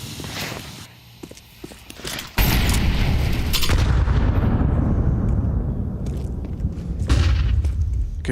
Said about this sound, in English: Good nade onto Donk just to open up this round.